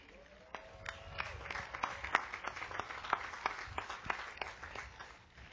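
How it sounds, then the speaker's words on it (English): A commencement audience applauds honor graduates at a spring 2004 ceremony, a faint, distant patter of many hands clapping in a large hall, irregular sharp claps rising and falling throughout. "We applaud these honor graduates for their special designations"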